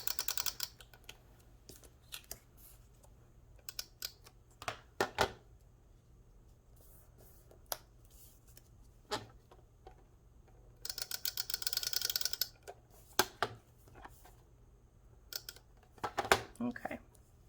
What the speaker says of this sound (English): I'm just going to use my tape runner for this part.